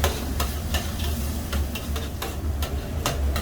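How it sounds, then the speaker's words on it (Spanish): Sofrito with sweet paprika frying in a paella pan for an octopus and tender garlic rice, a soft steady sizzle broken by light scraping and tapping stir strokes at an irregular rhythm. "Vale, sofrimos un poquito más."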